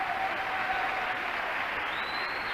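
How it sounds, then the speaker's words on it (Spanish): A church congregation applauds during a sermon, giving steady, fairly faint clapping that blends into a continuous wash of sound, with a thin high tone above it. "Un aplauso al Señor."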